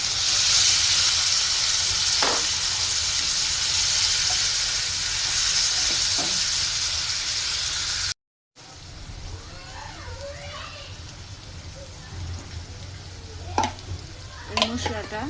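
Onion, ginger, garlic and cumin pastes fry in hot oil for duck curry, a steady loud sizzle throughout with occasional stirring clinks, briefly cut off and then resuming slightly quieter with scraping.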